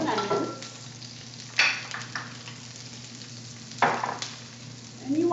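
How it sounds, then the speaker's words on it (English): Peppers and onions sizzle steadily in hot oil in a pan, a close, continuous hiss broken by a few louder scrapes or bursts, with no voices. "I'm going to go ahead and add in my peppers and onions."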